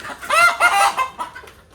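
A nearby native country chicken on a poultry farm clucks in a short burst of several throaty, rising calls, loud and alone.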